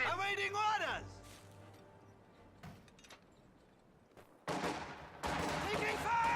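Video game gunfire arrives as scattered distant shots and a burst, followed by louder, denser bursts of rapid fire near the end, with a brief voice at the start.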